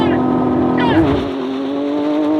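A Lamborghini Aventador Ultimae and a Mercedes-AMG GT Black Series launch side by side in a drag race, a loud, close engine roar whose pitch climbs steadily as the cars accelerate hard.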